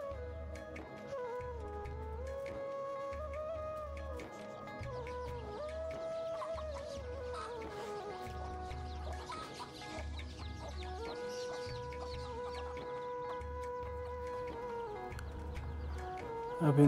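Hens cluck steadily in a busy coop, with overlapping calls and squawks rising and falling throughout, fairly close and continuous.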